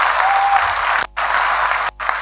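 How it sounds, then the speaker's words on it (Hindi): An audience applauding Kuldeep sir at a speech event, dense loud clapping from a crowd that cuts off briefly twice. "एक बार जोरदार ताली होनी चाहिए कुलदीप सर के लिए"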